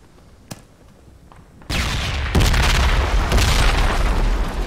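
A grenade thrown upstairs bursts inside a bunker with a sudden loud boom, then a sustained roaring, crackling rumble and further sharp bangs that keep the level high to the end.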